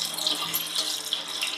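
Water runs from a tap into a pot for cooking dal in a home kitchen, a steady close splashing stream that continues unbroken.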